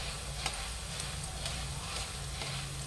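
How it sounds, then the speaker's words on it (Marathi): Roasted poha frying in a steel sieve lowered into hot oil in a kadhai, a faint, even sizzle and crackle throughout with a few soft taps, no talking. "आपण एक स्टीलची चाळणी घेतलेली आहे आणि नंतर याच्यात आपण भाजकी पोहे टाकून घेतलेले खाली आपण कढईत तेल तापून घेतलेले"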